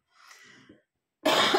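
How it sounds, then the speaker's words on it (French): A person coughs twice at close range: first a soft, breathy cough, then after a brief silence a much louder, harsher one. "Pardon, je tousse encore."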